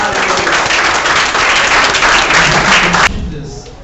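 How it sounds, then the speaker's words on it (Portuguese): A church congregation applauds after a prayer, loud dense clapping from many hands held steady for about three seconds before cutting off abruptly into quieter room sound. "oramos e Te aplaudimos no nome do Senhor Jesus"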